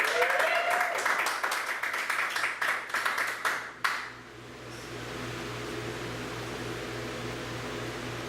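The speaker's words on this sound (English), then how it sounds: "after a warm round of applause." Applause from an improv theater audience for several seconds, dense clapping that fades out into a steady hum of room noise.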